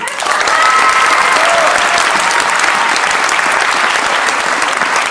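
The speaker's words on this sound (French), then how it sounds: "On peut les applaudir aussi." Sustained applause from a concert audience thanking helpers between songs, steady and full for the whole stretch with no talk over it.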